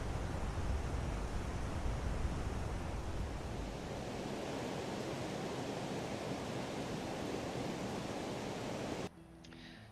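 A huge modded video-game waterfall roars as a loud, dense, steady rush of falling water, heavy at first then slightly thinner, cutting off abruptly near the end.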